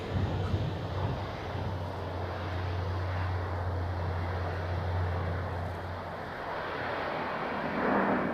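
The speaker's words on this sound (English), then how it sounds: "now it departs exactly into the other direction" A jet airliner departs from the runway at Zurich Airport, a steady broad engine roar with a low droning hum heard from a distance, holding level before easing slightly.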